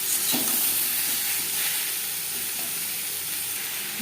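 A green mango mixture for mango jelly chutney fries in a pan, producing a continuous close, even sizzling hiss with no voices.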